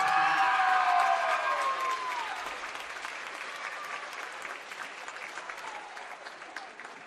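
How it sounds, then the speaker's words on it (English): A crowd gives loud, sustained applause for Josephine Roush, the Tehachapi Warrior honored as volleyball player of the year at a 2023 Kern County all-star volleyball event. The clapping is dense at first, then gradually thins and softens over several seconds. "How about a big round of applause?"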